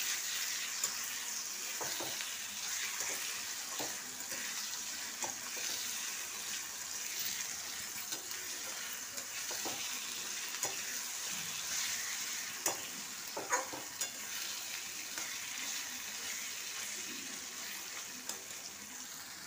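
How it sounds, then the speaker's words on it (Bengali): Onions frying in a pan for chicken kofta curry, a soft, steady sizzle heard up close with occasional light stirring clicks and no talking. "পেঁয়াজটা খুব ভালো করে ভাজা হয়ে গেছে"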